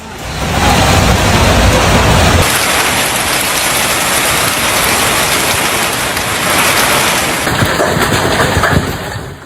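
Heavy rain from a violent thunderstorm with hail over Brisbane and Ipswich, Queensland, pours down as a loud, dense, continuous roar that shifts in intensity partway through, with no voices.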